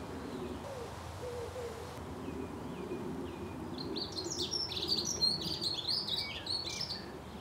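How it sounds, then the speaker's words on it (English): A dunnock warbles in quick high bursts over a low steady hum of background noise, the song growing busier in the second half. "That bird you can hear there, it's a dunnock"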